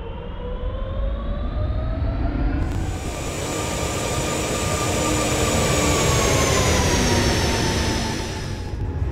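Jet airliner engines spooling up as throttles advance for the takeoff roll, a loud continuous roar with rising whine that swells and holds steady throughout.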